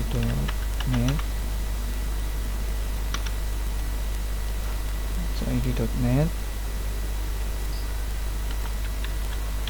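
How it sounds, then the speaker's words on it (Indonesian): Typing on a computer keyboard: a steady, quiet stream of light key clicks over a constant hum, with someone speaking briefly in a few spots. "Sini saya ketik cid.net"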